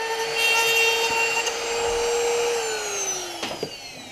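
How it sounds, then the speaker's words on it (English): A Dremel cutting through metal tubing for a roll bar in a Honda S2000, a high steady whine with a slowly dropping pitch near the end, followed by a few short clicks, no talk. "Alright, so there's the first cut. Just used the Dremel"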